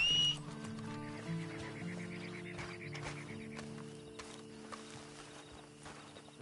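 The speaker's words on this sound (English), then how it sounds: "Then you better get on this horse." A horse in the Red Dead Redemption 2 video game, with soft hoof clops and faint snorting over a steady low music bed. The animal stays close and fairly quiet, and no one speaks.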